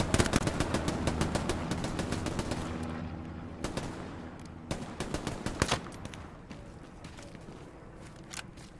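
Close, dense bursts of automatic weapon fire in the World War II shooter Hell Let Loose, loud at first, then easing into scattered shots and short volleys.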